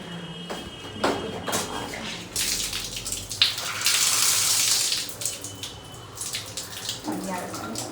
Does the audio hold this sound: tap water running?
yes